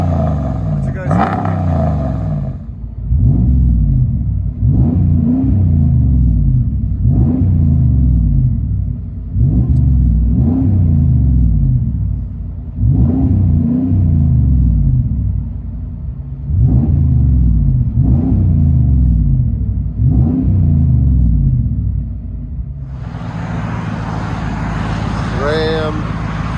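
2018 Ram 1500 with a 5.7L Hemi V8, dual exhaust and muffler delete, revved repeatedly in about eight deep, rumbling bursts, each rising and dropping back to idle, with talk near the end.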